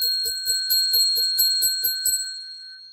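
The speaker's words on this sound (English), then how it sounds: "I'm going to ring the bell for the basement dwellers." A small bell, like a bicycle bell, rings about ten times in a quick, even rhythm. The ringing is clear and close, then fades out.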